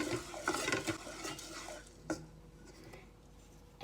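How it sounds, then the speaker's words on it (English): Chicken being mixed with salt and black pepper in a bowl for yakitori: a close, busy stretch of wet stirring and scraping that fades out, ending in a sharp clink, with no speech. "Mix well"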